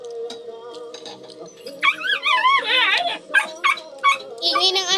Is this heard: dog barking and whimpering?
yes